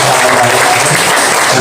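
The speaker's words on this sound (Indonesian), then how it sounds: "Yang mau tepuk tangan silahkan buat" Congregation at a worship and prayer gathering claps hands, a loud, continuous wash of clapping with a faint low tone underneath.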